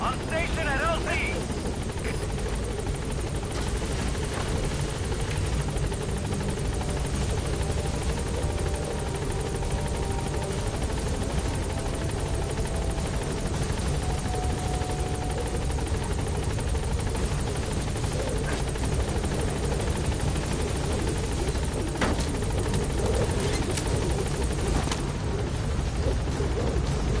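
Support helicopter arriving at a landing zone in Metal Gear Solid 5, its rotor producing a continuous loud whir and chop throughout, with occasional radio voices and game sounds over it.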